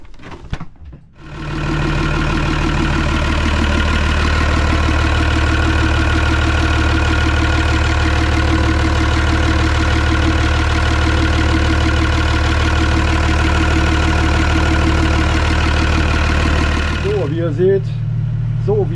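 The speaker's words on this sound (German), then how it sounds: "Wie ihr seht, der Motor läuft wieder" A steady, loud Perkins 101 kW marine diesel engine idles with a constant low rumble for most of the clip, then cuts out near the end.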